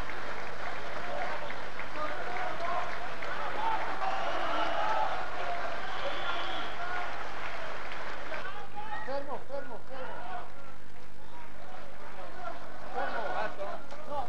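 Festival audience in a hall reacting to a jury verdict with a mix of applause and dissent, a dense crowd roar of clapping and voices that thins out after about eight seconds.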